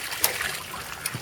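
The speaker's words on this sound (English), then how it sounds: "the wastewater going into that bucket" Overflow wastewater from a water ram pump pouring into a bucket, a steady close trickling and splashing with a couple of brief brighter splats.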